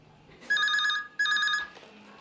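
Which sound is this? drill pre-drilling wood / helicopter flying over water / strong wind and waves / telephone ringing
telephone ringing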